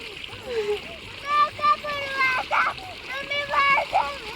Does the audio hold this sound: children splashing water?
yes